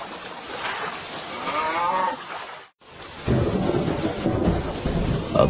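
Steady rain with a thunder rumble in a Bengali animated cartoon about a village whose crops are ruined by rain; a softer stretch breaks off into brief silence, then a louder, denser downpour fills the rest.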